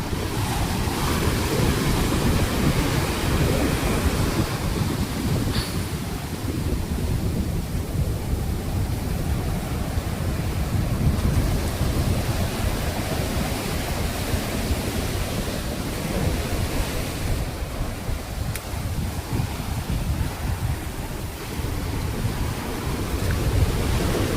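A broad, steady roar of rushing water flows under an old bridge near Pakala Beach, loud and continuous with wind buffeting the microphone, with no voices.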